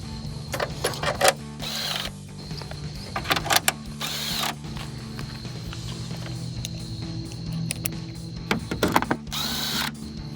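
An impact wrench works rusty bolts on a 2019-2022 RAM 1500 headlight, with several short, loud, whirring bursts separated by quieter pauses and small clicks nearby.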